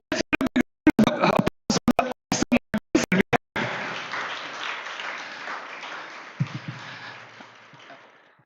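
A crowd at a public speaking contest final claps in bursts, then breaks into a sustained wash of applause that gradually fades away.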